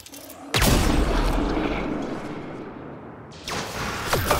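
An assault turret fires in the video game Mass Effect Andromeda, with two loud booming blasts, one at the start and one near the end, each trailing off into a long rumbling decay.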